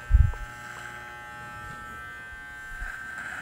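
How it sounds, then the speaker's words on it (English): An electric hair clipper fitted with a number 3 guard buzzes steadily in a thin, high electric drone. A short low thump opens the sound, then the hum continues alone at moderate level. "The clipper gradually comes off the head."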